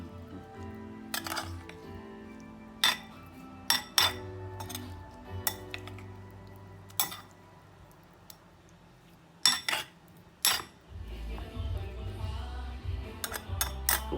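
Canned fish salad being tossed and mixed in a bowl, with sharp intermittent clinks of a utensil against the dish, several in quick clusters, close and fairly quiet, with no talk.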